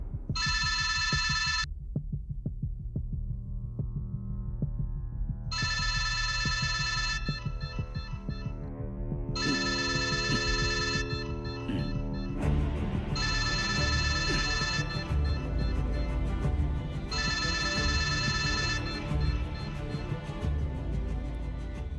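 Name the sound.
telephone ringing during a call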